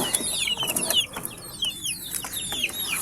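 Young gamecock stags and chickens of Gilmore Hatch stock clucking close by in a farm pen, a busy overlapping chatter of short calls.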